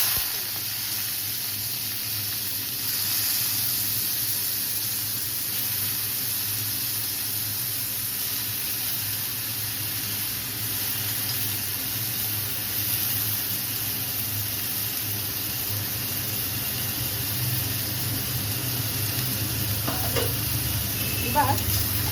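Onion, tomato and capsicum frying in hot oil for chilli chicken in a home kitchen, a steady close sizzle and hiss that runs throughout, with occasional stirring scrapes and a few soft crackles.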